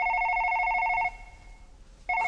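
A telephone rings with a loud, steady electronic trill that stops for about a second and then starts again, with no talking.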